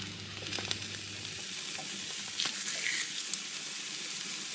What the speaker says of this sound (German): das legen wir jetzt auch ohne Fett hier einfach in die Pfanne